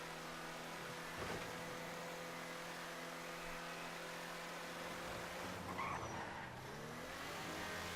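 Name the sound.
car driving in the video game Grand Theft Auto 5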